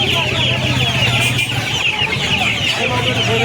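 Many chickens cluck and chatter continuously nearby at the Uluberia poultry market, a dense busy flock sound with faint voices and bustle in the background.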